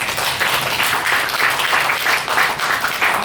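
Audience at a conference opening day in Singapore breaks into applause, a dense, even patter of many clapping hands sustained loudly for several seconds.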